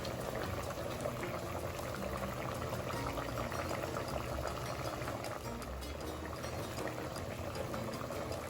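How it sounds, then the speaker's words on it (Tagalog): Crabs boil inside a covered pot, giving a steady, dense bubbling and rolling hiss of water that holds even and close for the whole stretch, with no voices over it. "ito ay ating tatakpan at pakukuluan sa loob ng 10 minuto."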